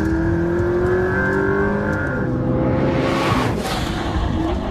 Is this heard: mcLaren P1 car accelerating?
yes